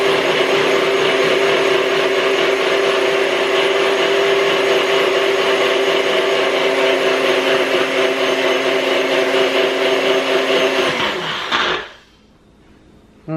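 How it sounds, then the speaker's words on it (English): A blender runs loud and steady, whirring through a homemade vitamin C serum with ferulic and hyaluronic acid for about eleven seconds, then cuts off abruptly into near silence. "No, my blender is turned on."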